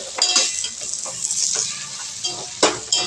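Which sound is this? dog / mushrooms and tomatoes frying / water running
mushrooms and tomatoes frying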